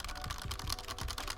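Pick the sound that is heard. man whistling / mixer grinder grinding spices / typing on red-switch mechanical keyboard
typing on red-switch mechanical keyboard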